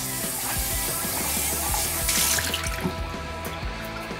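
A film developing tank lid is rinsed under a running tap during color film processing, a steady close splashing water stream with dripping and spattering throughout, no voices over it.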